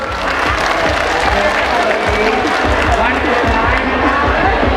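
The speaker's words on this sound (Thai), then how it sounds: "ขอเสียงปรบมือเป็นกำลังใจให้น้องๆเหล่านี้หน่อยครับ" A crowd at the 2023 Thida Prasat pageant in Surin claps and cheers loudly for the young contestants, thick, continuous applause mixed with shouts and crowd chatter.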